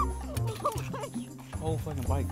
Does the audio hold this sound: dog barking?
yes